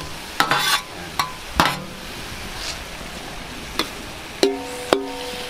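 Octopus tentacles being stirred in a hot pan, several sharp scraping clatters of a utensil against the pan, some metallic and ringing, over a quiet, constant sizzle.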